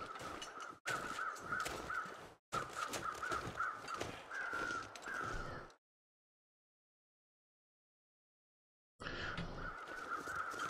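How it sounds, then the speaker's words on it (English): Crows caw in the survival game The Long Dark, a faint, rough series of repeated calls that breaks off into silence and then resumes, with no talk over them. "Some crows up here,"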